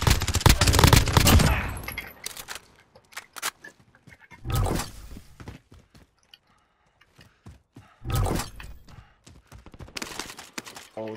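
Gunfire in the Call of Duty: Modern Warfare video game comes in three or four loud, rapid volleys, each cut off by quieter gaps of scattered clatter. No words are spoken.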